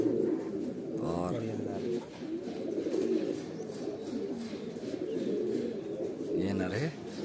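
A male netted Kalsare pigeon with a crest coos in a loft, giving low throaty rolling calls that carry on steadily for several seconds, with a voice talking over them at times.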